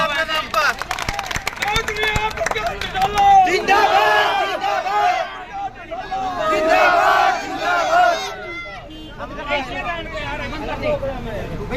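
A large crowd at an outdoor political rally for OP Chautala in Tohana, Haryana, chants and cheers loudly in surging waves, with a dip near the ninth second before the shouting builds again.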